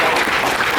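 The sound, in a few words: audience applause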